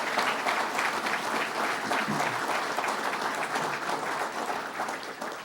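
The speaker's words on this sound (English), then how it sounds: "That deserves a round of applause." An audience gives a sustained round of applause after a remark in a political speech, even and continuous and heard from a moderate distance, tapering slightly at the end.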